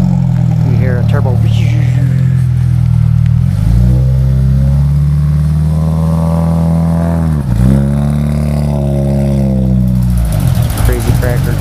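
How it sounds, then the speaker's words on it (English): A turbocharged 1989 GT car engine revs loudly and close up, rising and falling in several sustained pulls with a brief dip mid-way, while voices talk nearby. "You hear a turbo."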